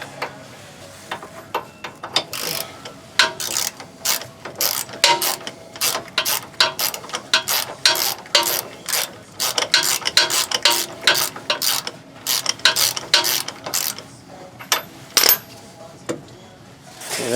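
A hand ratchet clicks in quick bursts of rapid pawl ticks while threading a nut onto a ball joint on a Dodge Ram 3500, with short pauses between strokes, close and fairly loud.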